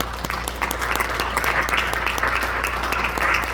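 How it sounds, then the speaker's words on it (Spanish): A church congregation breaks into loud, sustained applause, dense clapping filling the room steadily with no one speaking over it. "Denle un fuerte aplauso a Cristo."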